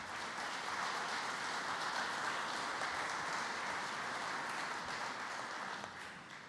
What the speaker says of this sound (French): je crois que vous pouvez les applaudir